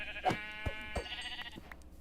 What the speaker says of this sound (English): I am trying to hurry up to get these sheep because they're our life source.